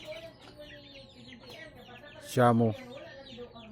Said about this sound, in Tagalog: Mga sisiw. Nandyan sa loob sa kulungan.